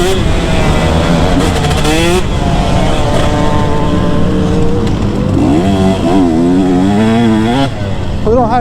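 A two-stroke motorcycle engine revs hard and rises in pitch as the throttle rolls on, its tone climbing and wavering through the gears, loud and continuous with a voice talking over it.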